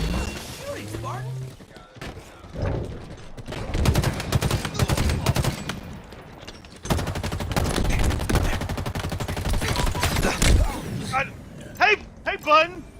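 Halo Infinite multiplayer gunfire, repeated bursts of rapid shots and heavy impacts in close range, broken by pauses, with players talking over the action.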